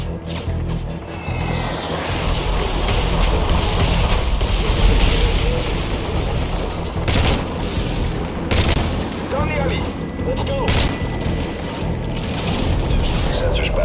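Gunship fire mission in Call of Duty Modern Warfare 3 with heavy rumbling explosions and bursts of cannon fire, loud and continuous, under radio chatter and shouting voices.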